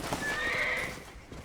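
A horse whinnies while its hooves clop in the Red Dead Redemption video game on PS5. A short, loud, rising neigh sits up close over the quick hoofbeats.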